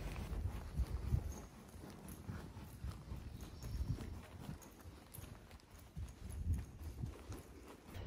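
Hooves of a showjumping horse clip-clop on the footing of an indoor arena during a ridden session, a steady rhythmic walk of soft muffled thuds at moderate distance with no talk.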